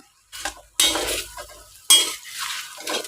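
Stirring egg curry in a cooking pot: bursts of scraping and swishing as a spoon moves through thick food, with a soft sizzle underneath, close by.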